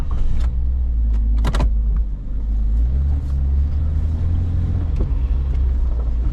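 A car engine idles with a steady low rumble, loud and close, with a few clicks and rattles near the start.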